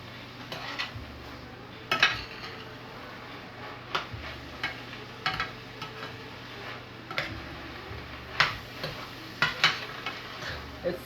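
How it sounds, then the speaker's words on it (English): A soft, steady sizzle of corn in a hot pan, punctuated by periodic scraping taps of a utensil stirring the food. "It's sizzling just perfectly well."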